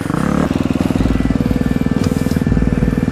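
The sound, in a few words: dirt bike motorcycle riding at a motocross riding area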